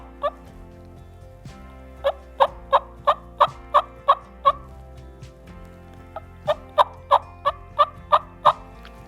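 A hunter imitates a hen turkey's tree call on a mouth call, blowing two series of soft, evenly spaced yelps, about eight to ten notes each, clear and close with a short gap between the runs.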